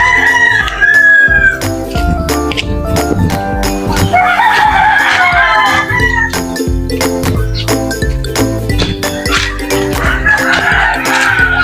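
Native chickens cluck and crow close by in a busy yard, a rooster's call rising over steady overlapping clucks and scattered sharp clatters, with no talking.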